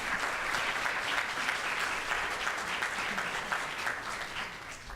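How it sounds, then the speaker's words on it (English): An audience at a high school summer commencement ceremony gives sustained, even applause for Mr. Ballas, a dense wash of clapping from a large crowd at moderate distance, no speech. "Let's give a round of applause to Mr. Ballas."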